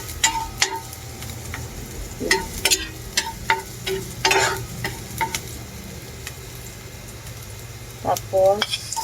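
Garlic sautéing in a pan while being stirred, a soft sizzle under repeated sharp clinks and scrapes of a utensil against the pan, with a few louder clatters near the end.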